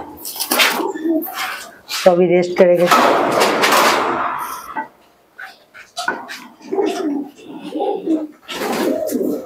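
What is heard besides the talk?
female pigeons cooing in a loft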